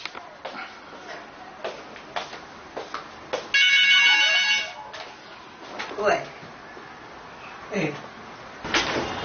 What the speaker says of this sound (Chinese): 午饭后，儿子李长贵的电话终于等来了。